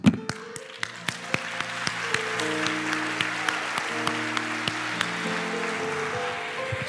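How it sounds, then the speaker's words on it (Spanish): Church congregation clapping along in a steady rhythm, sharp evenly spaced claps over a sustained bed of instrumental chords and crowd noise throughout. "Por ahí unos hermanos aplaudieron y como que los dejaron solos."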